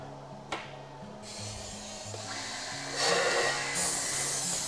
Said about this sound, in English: We're boring the 15 millimeter holes based off of a stop.